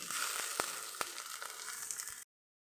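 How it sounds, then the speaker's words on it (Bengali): Onion, ginger, garlic and chilli paste fries in a pan, a faint steady sizzle broken by a few sharp taps of the spoon as it is stirred, ending abruptly. "একসাথে পুরো উপকরণটাই ভালো করে একটু ভাজা হবে, নাড়া হবে।"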